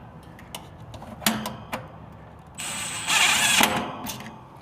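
Power drill driving a screw while wiring an air-conditioning unit for a no-cooling fault: a short whirring burst that builds to a louder, sustained drive before easing off, with light tool clicks and handling noise around it.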